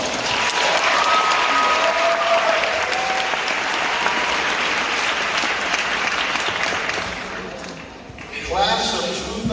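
A large crowd applauds loudly and steadily for the chorus and band at the Commerce High School Class of 2019 graduation ceremony, with continuous clapping that thins slightly near the end amid cheers.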